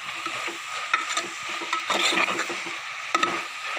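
Mutton masala being stirred in a pan, a scraping, rubbing stir with soft sizzling underneath, close and steady with a few sharper scrapes.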